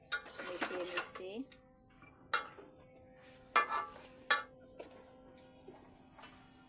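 A spoon stirring a ridge gourd curry with spices in a pan for a hilsa fish dish makes sharp metallic scrapes and clinks in irregular bursts, separated by near-silent pauses.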